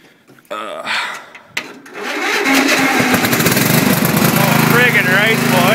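A Briggs & Stratton 12 hp engine cranks over, catches and settles into a loud, steady running drone that fills the rest of the clip, with a few thumps and handling noises before it fires.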